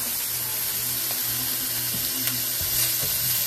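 Garlic frying in a pan on a home stove, a steady close sizzle with faint stirring scrapes running through it and no talking.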